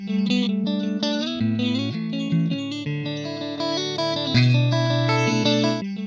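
A guitar played dry with no added echo, a steady run of sustained chords and notes at an even, fairly loud level.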